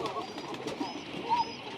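Pigeons coo softly in a rooftop loft, with a low, murmuring call and a brief higher note amid quiet background rustle.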